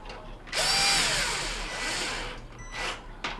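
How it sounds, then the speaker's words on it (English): A power driver whirs in a steady burst, driving the user-interface mounting screws into a Whirlpool oven under repair, then stops briefly before a couple of shorter follow-up bursts, close and loud. "we're going to replace the mounting screws for the user interface"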